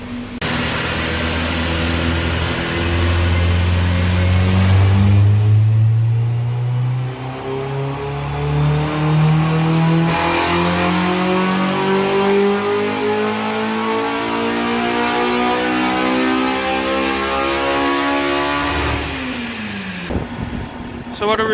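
A turbocharged GSR car engine revs hard on a dynamometer pull and climbs steadily in pitch for about twenty seconds, loud and close, then drops off sharply; a voice speaks faintly underneath.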